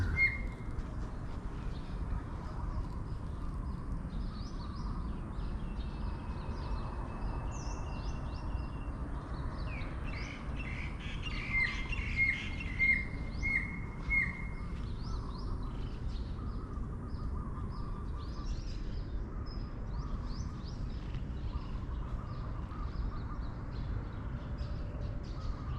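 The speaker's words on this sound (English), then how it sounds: "That's the racket bird." A racket-tailed drongo calls from high in the trees in Thailand, a few distant whistled notes over a steady outdoor background hum, faint and far away.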